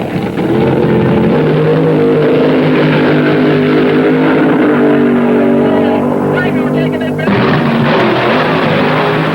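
Loud, continuous roar of 1974 funny car drag racing engines running hard, a sustained droning rumble that drops off abruptly near the end.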